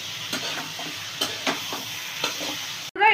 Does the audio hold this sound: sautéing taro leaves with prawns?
yes